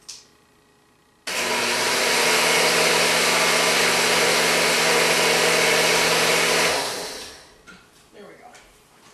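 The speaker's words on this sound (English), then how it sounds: "This needs to be blended a little more, but just a little bit." A blender grinds dry cookie ingredients in a home kitchen, starting abruptly as a loud, steady whir that holds for about five seconds and then winds down.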